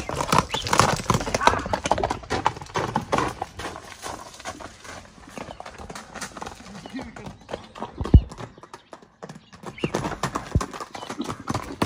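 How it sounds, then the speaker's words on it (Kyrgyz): A horse's hooves clip-clop in a steady trot, loud and close, with a whinny partway through, while people talk over the sound. "Ат эми ушундай эле болот болуш керек."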